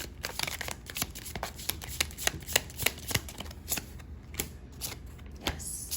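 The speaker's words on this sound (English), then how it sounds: "So let's go ahead and pull a few more cards" Tarot cards are shuffled up close in a quiet room, giving a run of crisp riffling bursts and soft slaps that come in an uneven rhythm and carry on throughout.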